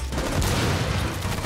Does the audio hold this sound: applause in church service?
no